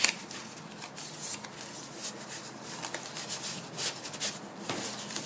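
Velcro on a handmade fabric-and-paper junk journal being pulled open and pressed closed, a series of close, crisp ripping and scratching bursts repeating throughout.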